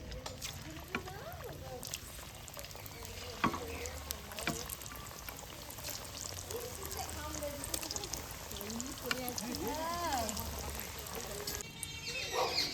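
Raw potato and semolina snacks deep frying in oil bubble with a continuous soft sizzle and crackle, while a voice talks over it throughout.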